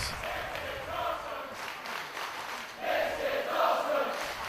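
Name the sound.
wrestling crowd cheering and applauding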